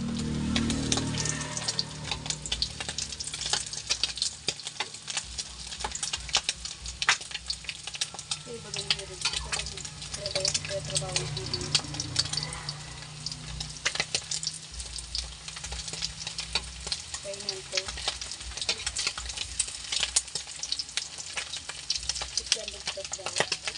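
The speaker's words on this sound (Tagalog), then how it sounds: "Pritong tinapang lawlaw." Smoked herring (tinapang lawlaw) sizzles and crackles in hot oil in a pan, with steady frying noise, occasional stirring and scraping, and voices talking now and then.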